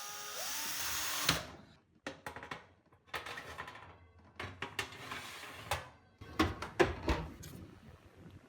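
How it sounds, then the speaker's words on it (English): Screws being driven at an angle into timber while an oven fan is refitted, heard as several short bursts of driver whirring and clicking with scraping and small metallic knocks in between, close and fairly quiet. "we'll put the 2 screws in on either side again"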